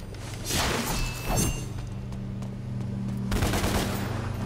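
Gunshots in DmC: Devil May Cry land as two punchy bursts in quick succession, then a third heavier burst after a pause, all over a constant low droning game background.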